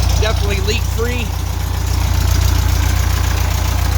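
A 1971 VW Beetle Autostick with a replaced exhaust system idles with a steady, low rumbling putter, while someone talks briefly over it near the start.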